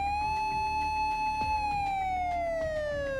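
An A-class emergency alarm siren in the game Trickcal Revive wails loud and steady, its rising-and-falling tone holding throughout while faint rhythmic thumps pulse underneath.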